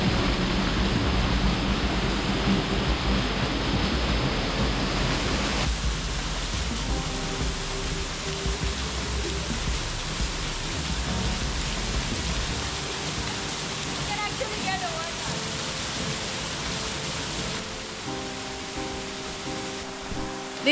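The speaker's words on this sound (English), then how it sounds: "The fun of this waterfall is actually coming behind the waterfall." The Spanny Falls twin waterfall in the Caribbean, heard from behind the falling water, gives a constant, loud, broadband roaring rush of water that never lets up.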